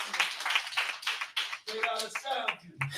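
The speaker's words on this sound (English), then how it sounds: "Let's give her another hand clap." A few people in the audience at a civic affairs summit clap in scattered bursts, then someone starts talking as the clapping thins out.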